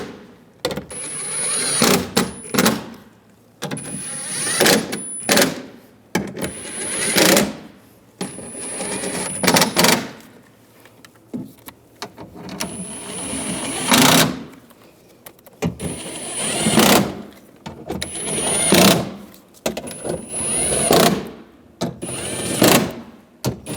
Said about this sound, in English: Now we're going to tighten these bolts down.